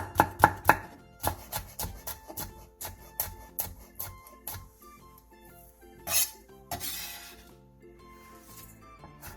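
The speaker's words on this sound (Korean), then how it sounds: "청양고추 5개와 홍고추 2개를 길게 반으로 가른 뒤 쫑쫑 썰어주세요" A knife chops halved cheongyang and red chili peppers on a board in steady, crisp strokes, close and alone, the rhythm slowing slightly as it goes.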